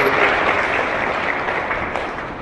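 A devotional gathering's audience claps loudly for a husband and wife being honoured for a donation, with dense, steady applause filling the whole stretch and fading slightly toward the end.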